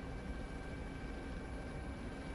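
Steady droning engine and rotor hum of a Chinook helicopter in a military video game, a constant low roar with no distinct beats, moderately loud throughout.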